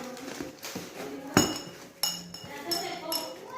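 Drinking glasses from an unwrapped farewell gift knock together at home: a couple of sharp, ringing clinks rise over quiet rustling, with a voice and children's noise in the background.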